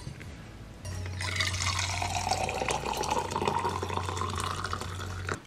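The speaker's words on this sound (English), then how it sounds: "So let's add some hot water and see when it actually works." Hot water pours steadily into an insulated, leakproof travel mug after a moment's pause. The stream runs continuously and close, with a low hum underneath.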